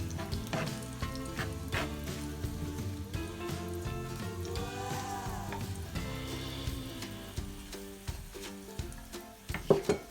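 Ripe plantain mash is stirred in a pan with a soft, steady sizzle and repeated scraping strokes of a spoon, fairly close and moderately quiet, with a sharper knock at the end.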